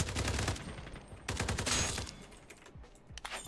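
Rapid bursts of Glock pistol fire in a multiplayer shooter, several close, loud volleys at the start and in the middle, trailing into scattered fainter shots and game noise.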